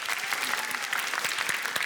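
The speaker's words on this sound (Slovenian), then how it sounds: "En aplavz za zmagovalce." Audience applause for the winning team from a primary school at a cup-stacking competition quarterfinal, a steady, dense patter of many hands clapping throughout.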